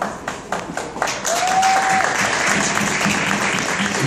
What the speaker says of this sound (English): A round of applause for our designer team.